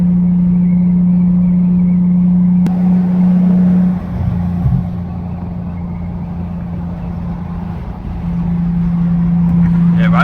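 A Mercedes W210 E320 sport sedan cruises down the interstate. Its engine and road noise hold a steady drone, and the note shifts briefly midway. Talk can be heard over the cabin hum.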